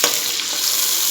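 Whole spices for biryani, including black pepper, cloves, black and green cardamom and cinnamon, frying in hot oil in a pan; a steady, close, bright sizzle lasting about a second with no voices.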